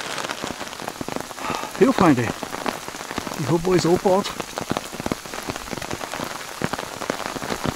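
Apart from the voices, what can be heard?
raindrops drumming on a tarp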